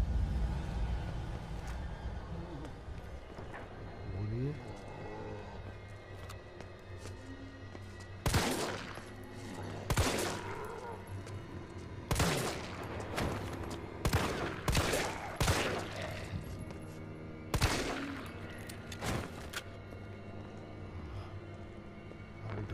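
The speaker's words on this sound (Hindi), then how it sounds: "फायरिंग हो रही है कहीं?" Scattered gunfire in the Resident Evil 3 remake: about a dozen sharp shots, some in quick bursts, ring out over a steady low game ambience, with no talk.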